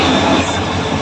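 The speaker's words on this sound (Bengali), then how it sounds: "এখন চলে এসেছে ট্রেন" A passenger train on the Cumilla to Akhaura line rolls in, a loud, steady rumble of wheels and carriages with a broad rushing noise filling the short moment, close by and without voices.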